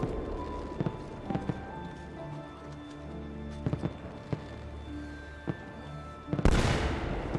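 A gun fires in Assassin's Creed II: one loud, sharp blast near the end, following scattered lighter clacks and footsteps over a quiet game backdrop.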